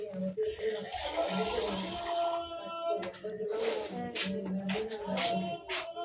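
Water runs steadily from a tap in a home kitchen, a continuous splashing hiss under brief background voices.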